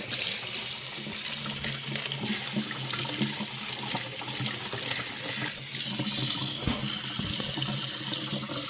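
Tap water runs steadily into a kitchen sink to soak a pumice stone, a continuous close splashing flow with small shifts as the stone is held under the stream, no voices.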